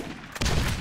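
A single close, loud shotgun blast in the video game Borderlands, a sharp booming report that trails off with a short rumble.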